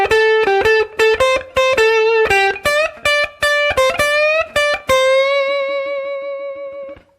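Clean electric guitar lick of about a dozen picked notes in a steady rhythm, with a bend, ending on a sustained note that rings out and fades, played alone and close.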